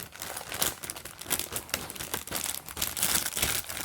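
Craft haul paper wrapping crinkles and crackles continuously as it is unfolded, close and fairly loud with no talking.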